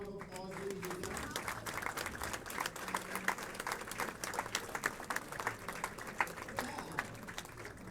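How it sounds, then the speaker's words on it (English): A bowling-alley awards-ceremony audience claps in a steady round of applause for a gentleman honored for 20 years of service, the sound close and even, with a few voices murmuring underneath. "Let's give this gentleman a round of applause, ladies and gentlemen."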